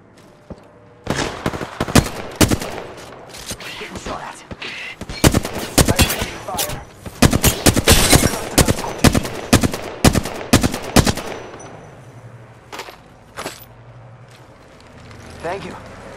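Bursts of video game gunfire in a firefight with distant enemies, rapid automatic volleys cracking loud from about one to eleven seconds before thinning to a few scattered shots, with voices talking over the action.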